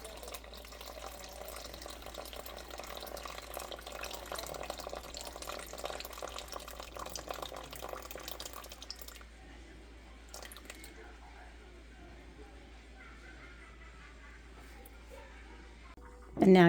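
Distilled water, 300 grams, is poured into a big glass jar for a sourdough starter, a steady trickling stream for several seconds that then thins to quieter drips and settles, heard close with no talk over it.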